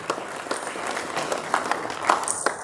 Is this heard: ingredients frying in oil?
no